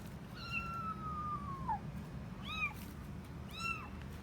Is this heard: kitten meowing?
yes